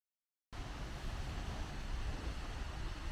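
Seljalandsfoss, a roughly 60-meter waterfall in south Iceland, pours with a steady broadband roar that starts abruptly after a moment of silence and holds constant.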